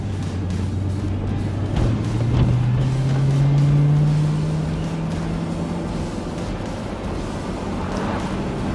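The Ferrari-built V8 of a 2010 Maserati GranTurismo Convertible revs up in a rising, sustained pull, then settles back to a steady rumble, loud and close with no talk.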